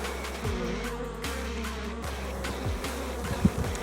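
Honey bees buzz steadily inside an open beehive during a hive inspection, a close, continuous drone with a few louder passes of individual bees flying near.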